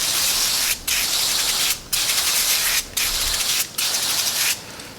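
A can of K&N air filter cleaner sprays onto motorcycle air filter cartridges laid on a table in five loud hissing bursts, each about a second long, separated by brief pauses.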